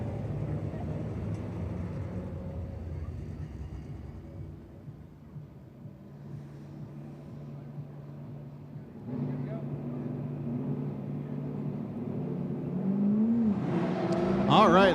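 Drift cars revving at the start line of a tandem run at a pro drift series event, engines droning and building toward the end, heard under an announcer's commentary.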